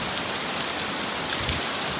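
Heavy rain pours steadily in a dense, loud, even hiss of drops striking surfaces nearby, unbroken throughout, with no voices.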